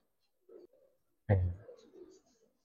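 A pair of khaki and silver Giribaz racing pigeons give a few soft, short coos while being held up close, with a fuller throaty coo in the middle.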